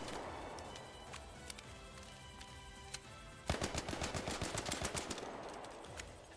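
A level 1 Roulette gun in Arc Raiders, heard first as a few isolated shots and then as a loud rapid string of rounds over faint background music.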